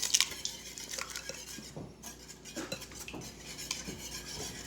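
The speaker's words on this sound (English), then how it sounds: "Avery's going to whisk that all together." Eggs whisked together in a bowl while cooking chicken parmesan: quick, uneven clinks and scrapes of a whisk against the bowl, close and fairly soft, with no talking.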